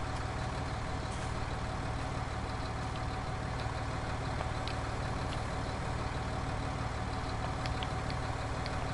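An unattended tractor idles in Farming Simulator 19, a steady low engine drone with faint clicks, constant and unchanging throughout, with no voices.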